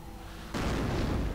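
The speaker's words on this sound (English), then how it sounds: "Mortar rounds continue to fly, firing ever ceaselessly." Mortar rounds fire in a strategy video game, a sudden loud burst of boom and rumble after a quieter lead-in, with the blast noise continuing to the end.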